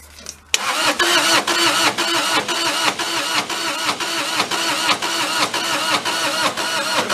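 Bobcat skid steer engine cranking after an abrupt start, a loud rhythmic churning of the starter turning the engine over repeatedly without catching, close up and continuous with no voices.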